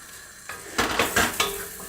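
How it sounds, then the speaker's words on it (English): A spoon scrapes and stirs a pan of melted marshmallow mixture for rocky road. Several quick, close strokes with soft sizzling underneath, each scrape rising in a short burst. "you just want to make sure you're stirring constantly"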